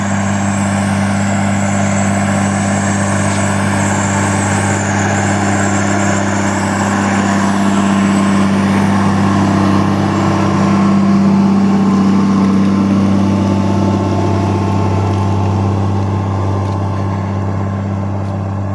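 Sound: tractor engine pulling plough

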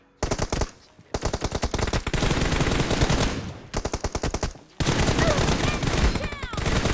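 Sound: gunfire in a video game

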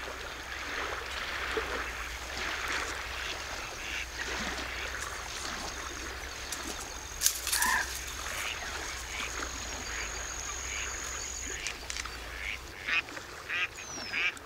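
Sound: ducks quacking

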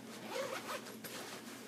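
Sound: zipper on a rolling weekender bag compartment

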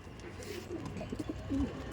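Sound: Andhra pigeons in a loft

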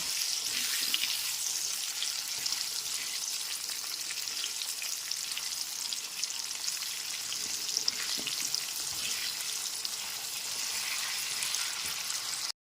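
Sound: potato pieces frying in oil with salt and turmeric

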